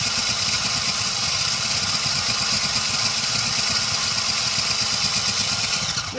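A blender mixes an iced golden milk latte, running with a loud, continuous, steady whir for the whole stretch.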